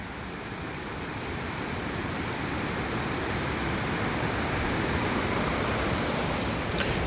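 Kothapalli waterfall in the hills near Vizag, water pouring down from above in a constant broad rushing roar, steady and close, with no voices.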